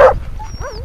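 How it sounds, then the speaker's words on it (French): Sled dogs, a mix of Alaskan Huskies and Eurohounds, give a single loud bark or yelp at the start, followed by softer whining whimpers, close by on a forest outing. "donc moi dans mes chiens j'ai de l'Alaskan Husky et de l'Eurohound."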